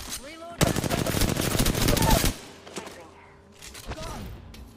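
Rapid automatic gunfire rattles loudly in a video game for nearly two seconds, followed by scattered single shots, thuds and game sound effects, with a voice talking over parts of it.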